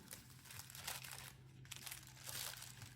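Paper packing material crinkles and rustles as it is pulled from a bubble-wrapped mailing envelope, close and fairly quiet with bursts of crumpling.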